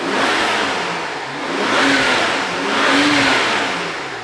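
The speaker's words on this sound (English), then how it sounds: "let's first hear what this exhaust note sounds like." A BMW F10 with its stock exhaust revs in a couple of smooth rising and falling swells, a loud mid-pitched engine note that climbs, eases back, and climbs again, with no talk.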